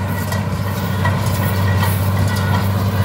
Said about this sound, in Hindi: ट्रैक्टर के पीछे मशीन लगी हुई है।